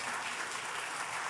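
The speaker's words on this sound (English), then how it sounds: "there's always this very naturally occurring, very organic yet raucous applause when I mention the city where he's from" Raucous audience applause for a Caldwell city councilman at a regional conference, a continuous wash of many hands clapping at once, steady and full for the whole moment.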